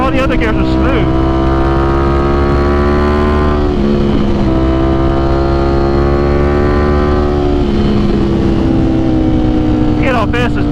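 A Ducati Streetfighter V4S with an aftermarket quick shifter ridden hard, a loud, close engine drone climbing in pitch through gears with quick shifts, a rider talking over it throughout.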